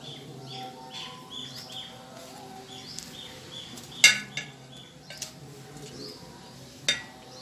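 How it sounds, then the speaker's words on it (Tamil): A knife chops raw jackfruit into small pieces in a home kitchen, giving a few sharp clicks and knocks against the board, with faint bird chirps in the background. "சின்ன சின்னதாக நம்ம கட் பண்ண போகிறோம்."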